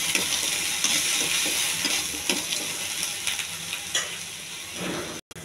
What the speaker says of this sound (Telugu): ఇవి తీసుకెళ్ళి తాలింపులు వేసేయాలి.